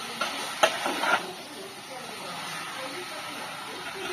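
Chicken frying in a pan with little oil, stirred once: a few quick scrapes and clatters early on over a steady sizzling hiss that carries through.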